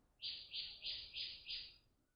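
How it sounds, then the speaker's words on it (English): Outdoors, a bird sings a run of five bright, evenly spaced chirps, clear and moderately close against a quiet natural background. "I don't know if you can hear that beautiful bird"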